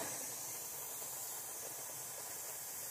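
A pressure canner hisses a continuous, even stream of steam while meat is being canned. The sound is a soft, broadband hiss heard on its own, with no voices.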